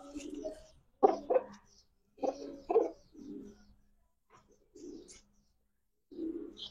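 Pigeons, including a jarda-coloured one, coo at a pigeon farm: several short, throaty coos come in close bursts separated by brief pauses.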